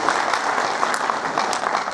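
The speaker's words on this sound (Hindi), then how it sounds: "मैं जोरदार आपसे गुजारिश करूंगा कि तालियां बजाकर इनका स्वागत करें" Dense, steady applause from an audience at an Ambedkar Jayanti celebration in Dungarpur, loud and continuous throughout without any speech over it.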